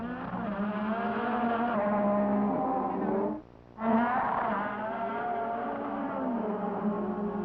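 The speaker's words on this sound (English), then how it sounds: "There is Jacques Lafitte in the Ligier with Johansson coming up behind him." Formula 1 race cars at the 1985 Canadian Grand Prix on the Villeneuve circuit, engines screaming loud and close with a continuous high-revving whine, a brief drop around the middle before the roar returns as another car passes.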